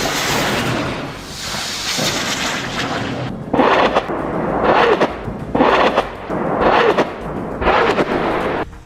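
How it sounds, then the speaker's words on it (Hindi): Rockets fired at night in wartime footage from the Israel–Hamas conflict, followed by a series of heavy, rumbling booms and explosions that repeat roughly every second, loud and reverberant over a continuous roar. "इन रॉकेट्स के फायर होने के बाद वीडियो में कई धमाकों की आवाजें सुनाई दे रही हैं।"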